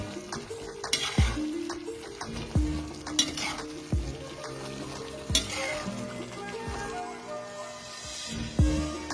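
Spices being stirred into sardine pickle in a pan, with a spoon scraping and clinking against the metal in repeated strokes over a soft, steady sizzle of hot oil.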